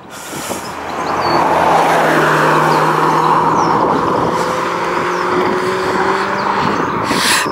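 Sports car passing on a narrow English country lane, a loud close engine swelling in and holding for several seconds before easing away, with no talk over it.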